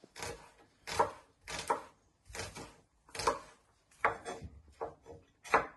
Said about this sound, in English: Turn them around and you just want to chop them into little pieces.